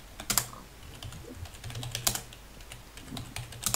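Quiet clicking on a computer keyboard during a Minecraft session, with irregular bursts of keystrokes and a few sharper taps between them.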